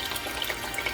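Water and stock pour into a pot for gumbo, a brief, close, steady splashing trickle lasting about a second, with no voices.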